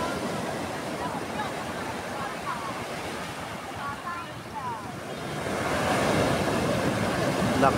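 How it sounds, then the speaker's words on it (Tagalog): Strong sea waves rolling in at a fishing spot on the shore, a steady broad roar of surf with wind noise buffeting the microphone, swelling louder toward the end. "Lakas ng alon."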